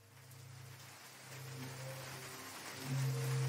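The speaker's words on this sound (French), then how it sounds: "À l'extérieur, il pleut des trombes." Heavy rain pours steadily outside as a dense hiss, with low sustained tones underneath that grow louder toward the end.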